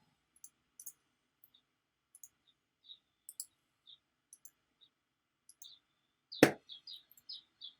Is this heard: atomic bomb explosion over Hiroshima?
no